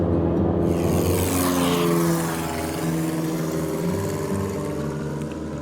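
A small propeller airplane engine drones loudly and steadily from close by, as from inside or beside the aircraft, a constant rumbling hum with a slight drop in level partway through.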